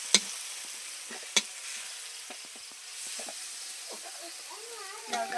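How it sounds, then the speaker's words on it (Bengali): A masala of turmeric and chili powder is stirred and roasted in a pan in a village kitchen, with a faint sizzle, soft scraping strokes and a couple of sharp utensil clicks. "ভালো করে নাড়াচাড়া করে মশলাটাকে ভালো করে কষিয়ে নেব"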